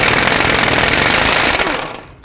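Impact wrench with a 30mm 12-point socket hammering loose the front axle nut on a 2009-2015 Toyota Prius, a loud continuous rattling burst that cuts off and fades near the end.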